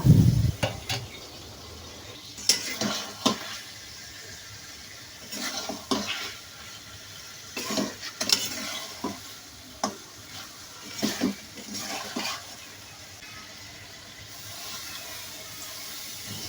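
Fish curry being stir-fried in a pan with boiled ingredients, bursts of scraping stirring and sizzling recurring irregularly over a quiet background.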